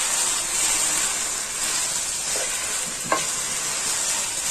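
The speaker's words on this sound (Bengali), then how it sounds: "পোলার চালটাকে ভাজার জন্য, ফ্রাই করার জন্য।" Polao rice frying and being stirred in a pan for chicken biryani, a steady close hiss of sizzling with a few soft scraping stirs, no talking.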